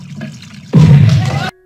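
Nitric acid and glycerine being poured together in a film scene, a loud, steady liquid gush that starts abruptly and runs for under a second before cutting off, after a quieter lead-in with faint talk.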